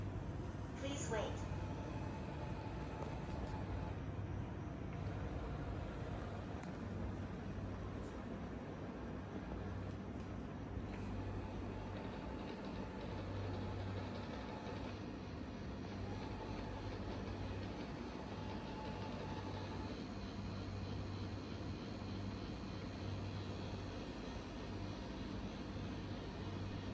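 An Ecovacs Deebot robot vacuum-mop with a bumper that sticks and won't spring back runs across a floor, giving a steady, continuous motor drone throughout at a moderate, unchanging level.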